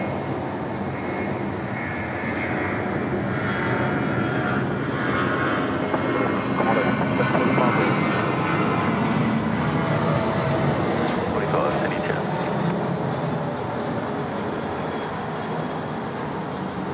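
An Emirates Airbus A380 lands at Sydney Airport at night in heavy rain, a loud continuous jet roar that swells and holds steady throughout, blended with the hiss of rainfall.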